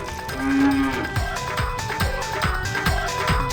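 A buffalo gives a loud, close moo that rises into a sustained low bellow, followed by continuing deep lowing and rustling sounds.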